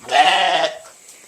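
A single loud, wavering bleat from a sheep or lamb, close by, trailing off into quiet.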